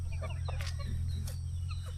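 Native country chickens and roosters on a farm cluck and chirp in scattered short calls, several birds at once over a low steady hum.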